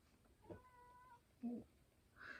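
A house cat meows softly a couple of times nearby, short faint calls against quiet indoor background.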